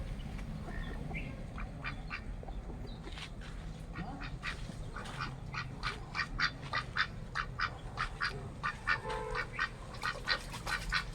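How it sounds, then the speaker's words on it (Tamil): Muscovy and Pekin ducks quacking repeatedly in a lively, overlapping chorus, fairly close, with steady outdoor background noise and no talking. "மணிலா வாத்து இருக்குது, பிகின் வாத்து இருக்குது."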